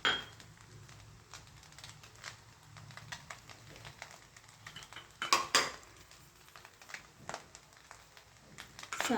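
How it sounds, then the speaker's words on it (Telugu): A spoon scrapes and clinks against a pan while mixing egg fried rice, the metallic taps and stirring scrapes irregular and moderately close, with louder clatter bursts midway and at the end; no talking. "మొత్తం అన్నం పైకి కిందకి బాగా కలుపుకోవాలి."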